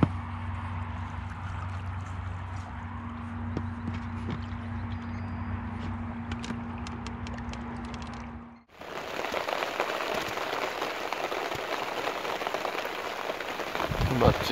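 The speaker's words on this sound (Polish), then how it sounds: "Zobaczcie jak leje." Heavy rain pouring down at a gravel-pit carp fishing spot, first a softer patter under a low steady hum, then an abrupt jump to a loud, dense drumming downpour that continues to the end.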